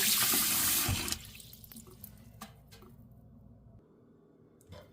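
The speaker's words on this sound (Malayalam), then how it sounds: "ഞാനിവിടെ രണ്ട് മൂന്ന് വെള്ളത്തിൽ ഒന്ന് കഴുകിയെടുക്കാൻ പോവാണ്" Horse gram being washed in water, with a loud splashing rush at first that settles into quieter sloshing and occasional drips and clinks, close by, with no talk.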